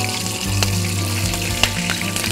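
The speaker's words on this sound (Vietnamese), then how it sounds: "Đó, quý vị thấy nó nổ nó văng." Freshwater prawns fry one by one in hot oil in an outdoor garden, with butter and garlic. A steady loud sizzle runs throughout, broken by sharp pops and spatters.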